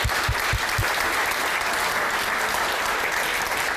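An audience at an intercultural event gives a sustained round of applause, dense and steady clapping throughout with a few loud low thumps at the start.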